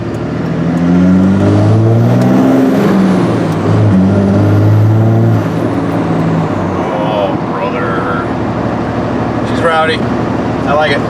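A 2004 Dodge Ram with a 5.9 Cummins diesel and an MBRP 4-inch muffler exhaust revs up and settles back, a loud, low, rumbling engine tone rising and falling twice before idling, with faint hissing and clicks near the end.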